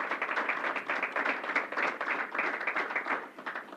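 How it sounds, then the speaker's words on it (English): Applause from an audience at a COVID-19 press briefing, many hands clapping in a steady, dense patter that holds evenly throughout, moderately loud. "So I want to give you a round of applause"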